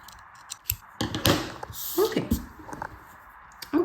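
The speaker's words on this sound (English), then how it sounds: "And then the excess yarns we can cut." Scissors snipping excess yarn from a crocheted braided necklace, several close, sharp cuts and crisp clicks amid quiet handling noise.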